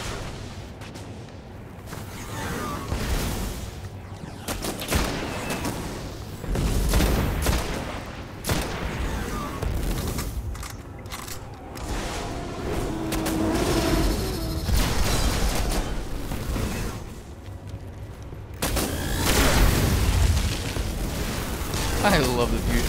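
Dense, layered gunfire and booming blasts from a Destiny firefight in the Black Garden, with a fusion rifle among the weapons, rolling nearly continuously and loud with bursts and explosions throughout.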